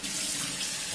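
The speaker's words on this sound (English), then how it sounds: "Washed it off with hot soapy water" Hot water runs steadily from a tap during the washing of a Royal Enfield cafe racer mask, a close, continuous hiss of splashing flow heard alone.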